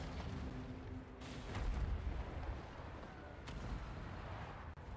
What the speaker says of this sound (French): et c'est sous les tirs des catapultes